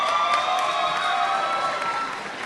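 Graduation audience at a university convocation ceremony (UPEI Convocation 2011, afternoon) cheering and applauding, a steady wash of claps and shouts from a large crowd for about two and a half seconds, gradually easing near the end.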